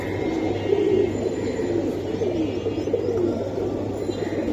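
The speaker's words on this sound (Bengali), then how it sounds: "খাকি কবুতর এটা।" Khaki pigeons coo in low, repeated rolling notes, close and continuous, over a steady background hum.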